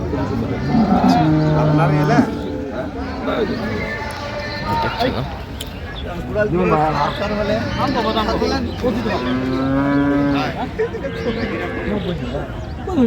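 Cattle at a crowded rural livestock market in Dinajpur, with loud repeated moos, some long and drawn out, over steady background chatter and people talking.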